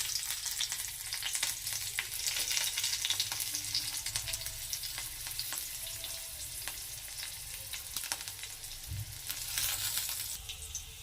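Green chilies and crushed garlic fry in hot oil for a lentil dal, giving a continuous bright sizzle with small crackles and a few stirring scrapes, close and fairly quiet.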